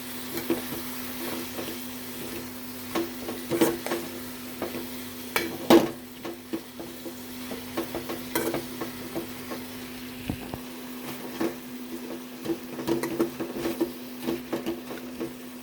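Red ponnanganni greens sautéed in a pan, a faint sizzle beneath irregular soft scrapes and knocks of the spoon, close and fairly quiet, with a steady low hum in the background.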